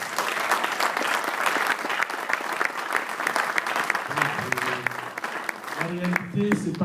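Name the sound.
congregation applauding and acclaiming the Lord in church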